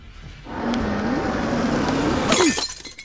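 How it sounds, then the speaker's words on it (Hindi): A car window's glass shatters loudly near the end with a sharp crash and tinkling fragments, after a few seconds of rising broadband noise; no voices. "लो, अब इस अब्दुल ने गाड़ी का शीशा भी तोड़ दिया"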